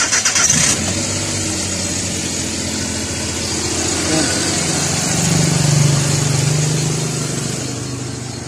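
A Suzuki DA64 engine cranks briefly and catches after its battery is reconnected, then settles into a steady, close idle that holds loud and even, swelling slightly toward the end.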